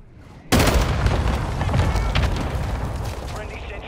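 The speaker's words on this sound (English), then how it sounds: "Friendly mortar strike on the way." Mortar strike blasts in Call of Duty: a sudden loud boom opens, then dense rumbling explosions and debris roll on continuously, with game voices faintly underneath.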